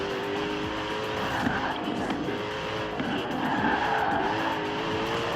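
Car in the Forza Horizon 4 racing game sliding out through a corner, a steady loud engine drone with squealing, skidding tyres running throughout, no voices.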